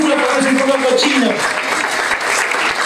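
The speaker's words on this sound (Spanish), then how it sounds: "Le damos un fuerte aplauso y la bienvenida a ese barrio" Applause from the audience at a children's puppet show for a centre's anniversary, a moderate patter of clapping under a speaking voice, the voice fading after the first second as the clapping carries on.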